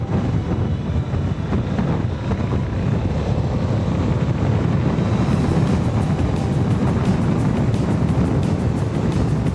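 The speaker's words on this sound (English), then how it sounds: "Don't get me wrong, it's still windy, but it's not as buffeting, you know what I mean?" Wind buffets the microphone at a free campsite by a jetty reserve, a loud, constant low roar with gusty fluctuations throughout and no speech.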